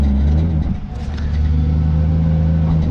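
A Nissan S13 with a swapped 1JZ turbo engine revs close by, a loud deep droning note that dips briefly, then climbs and holds with strong low harmonics.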